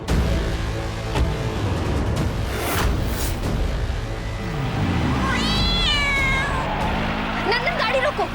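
A cat meows several times in a rising, wavering cry, heard over continuous background noise and nearby chatter.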